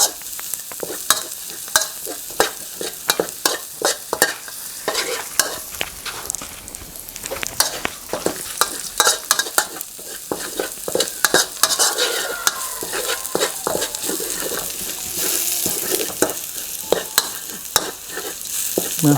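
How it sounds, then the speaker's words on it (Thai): Pounded chili and garlic stir-fry in hot oil in a wok, a loud close sizzle broken by repeated quick scraping strokes of a spatula against the metal. "พริกแล้วก็กระเทียมนะครับที่เราขูกไว้แล้วครับลงไป ผัดให้หอมนะครับ"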